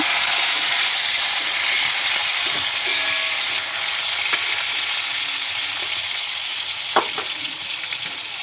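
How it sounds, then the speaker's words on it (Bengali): Green chillies and chopped tomatoes fry with bay leaf in hot oil, making a loud, continuous hissing sizzle up close, with a few faint stirring scrapes and one brief clink near the end. No one speaks. "কাঁচা লঙ্কা, কেটে রাখা টমেটো এবং নেড়ে নেব।"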